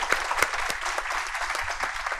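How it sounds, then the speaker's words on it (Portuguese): Audience applause at a formal ceremonial session of an international forum on ocean culture, a steady burst of clapping from a crowd with no speech over it. "Então, aplausos para todos nesse movimento, tá?"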